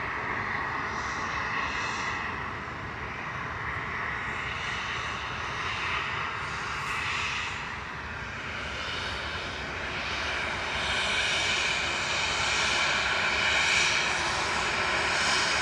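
A Boeing 757 jet at Manchester Airport roars steadily and loudly throughout, a broad continuous engine rumble that swells slightly toward the end, with no talk over it.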